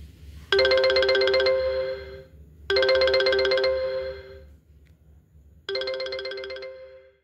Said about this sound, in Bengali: এই সময় সুরজের ফোন আসে